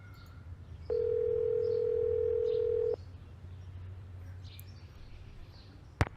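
A steady telephone dial tone sounds for about two seconds during a call placed in a Nancy Drew video game, a single flat continuous hum over a quiet low background, followed by a brief click near the end.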